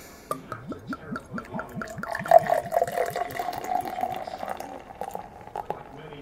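Fuller's London Black Cab Stout glugs from a freshly opened bottle into a glass, rhythmic pulsing pours giving way to a rising fill and fizzing head, close and clear.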